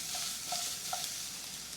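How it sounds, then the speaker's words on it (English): Garlic tossed into a hot pan for roasted poblano potato soup, giving a steady, close sizzle and frying hiss throughout with a few faint stirring clinks and no talking. "Now we go ahead and throw in our garlic in there."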